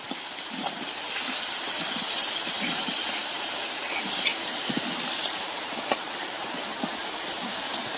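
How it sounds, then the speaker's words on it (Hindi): Chopped tomato hitting a hot pan for a crab curry, giving a loud, steady sizzling hiss that swells and holds, with a few small pops and crackles. "1 टमाटो काट के डालेंगे और इसको भूंजेंगे अभी।"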